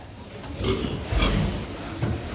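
Several piglets grunt and snuffle in short bursts nearby, overlapping low oinks with some rustling around them.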